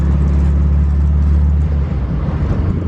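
A 1972 Volkswagen Thing cruising at 30 mph in fourth gear, its engine a loud, steady low drone with heavy rumble and road noise throughout, no speech.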